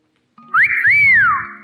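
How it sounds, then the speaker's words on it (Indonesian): A man whistles a single smooth phrase that swoops up, dips, then glides up and down again over about a second. It is close and clear, with no talking around it. "Dia bersiul."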